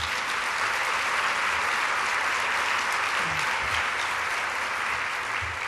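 Audience at a business luncheon applauding, a continuous, even wash of many hands clapping throughout, full and sustained with no talk over it.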